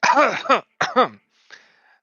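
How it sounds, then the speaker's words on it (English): A man coughs and clears his throat in the background during a tabletop game session, two short rough bursts followed by a faint trailing breath, with no other talk. "one of the guys coughs in the background"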